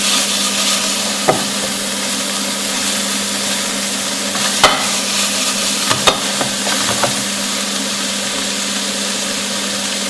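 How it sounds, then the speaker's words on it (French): Meat for meatballs browning in a pan, a continuous close sizzle and hiss of frying with a steady hum beneath and a few sharp clicks and scrapes of stirring, no voices. "Le but va être de faire griller la viande sur toutes les faces."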